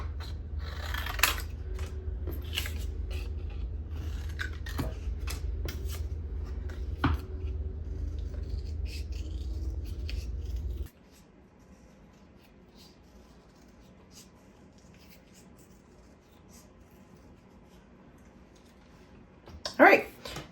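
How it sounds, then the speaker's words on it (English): Scissors cutting out paper ornaments for watercolor Christmas cards, with crisp snips over a steady background hum for about eleven seconds, then near silence before a short louder handling noise at the end. "So I cut out 6 of my little ornaments"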